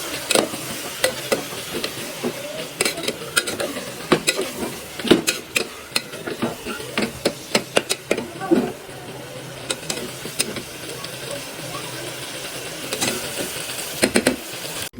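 Mutton is stirred and fried with salt, turmeric, cumin powder and ginger-garlic paste in a pan, with repeated scraping spatula strokes and clinks over a steady sizzle, close and moderately loud.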